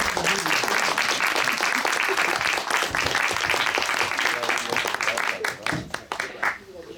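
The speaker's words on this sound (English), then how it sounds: "let's give her an applause." A room full of people at a women's meeting claps for a speaker, with dense, close applause that thins out toward the end while voices talk over it.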